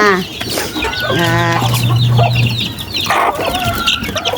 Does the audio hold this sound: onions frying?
no